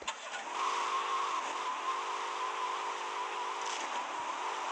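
A car in the video game GTA Vice City drives with a steady, mid-pitched engine drone that holds at an even level throughout, and no one speaks.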